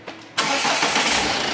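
Ford Titanium 2018 car engine cranking and catching, then settling into a steady broadband idle close by, with no voices over it.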